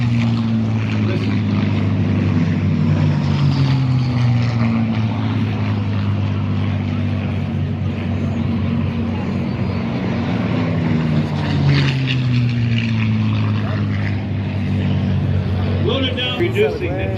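A propeller-driven military aircraft with a belly scoop and wing tanks flies past at an airshow. Its engine drones loudly and steadily the whole time, with pitch sweeping as it passes, and a crowd murmurs underneath.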